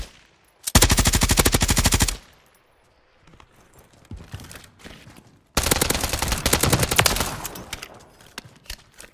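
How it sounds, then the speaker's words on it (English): In the video game Warzone 3, two long bursts of rapid automatic gunfire ring out close and loud, separated by a quieter stretch with faint scattered shots. "Kids shooting at me."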